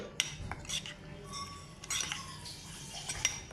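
Whole cumin and black pepper being stirred in a metal pan, with a few sharp, scattered clinks and scrapes of the spoon against the pan over faint background noise.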